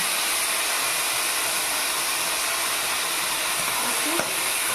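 Strained taro stems hit hot oil in a wok and give off a loud, steady sizzling hiss that holds evenly throughout, with no voices.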